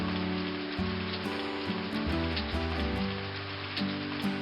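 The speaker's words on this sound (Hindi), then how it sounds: "इस बार बारिश बहुत अच्छी होती है।" Heavy rain pours over a village as a steady, dense hiss, joined by a melodic music bed throughout and no talking.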